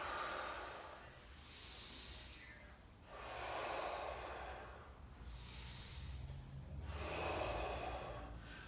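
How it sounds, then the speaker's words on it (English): Slow, deep breathing during a rope stretch, with three or four long inhale and exhale cycles in a steady rhythm, close but faint, with no talking. "exhale on that stretch, and then inhale, and exhale as it's coming out"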